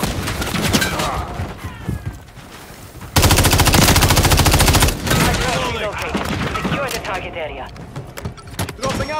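Automatic gunfire in Call of Duty Modern Warfare III multiplayer, with loud sustained bursts of rapid shots mixed with other battle noises while voices shout callouts in between.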